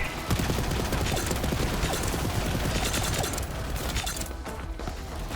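A Jakobs gun fires in the video game Borderlands 3 as dense, rapid gunfire that stays loud and continuous, with mechanical clatter mixed in throughout.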